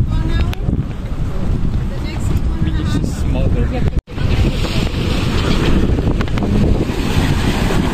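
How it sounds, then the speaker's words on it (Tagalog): Strong waves slap and churn against a public boat on the lake in Zurich, with heavy wind buffeting the microphone throughout, loud and close, while voices talk faintly underneath. "Alon, lakas yung alon."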